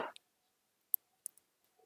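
A computer mouse clicking during MATLAB use, a few sharp isolated clicks spaced across a quiet background, soft and close.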